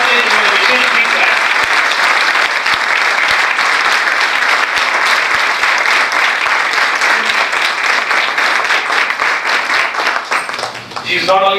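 Loud, sustained applause from a church congregation fills the room, steady dense clapping that runs nearly the whole time before thinning out at the end, with voices faintly mixed in.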